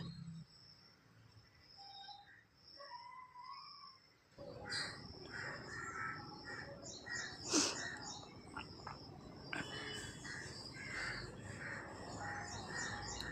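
Crows caw repeatedly while being given food, their harsh calls rising over a steady outdoor ambience, with a louder burst of activity midway and birds calling throughout.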